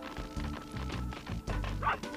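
A dog barks again and again to herd sheep toward an electric-fenced pen in the video game Space Station Silicon Valley. The rhythmic, synthetic-sounding barks repeat over steady game music.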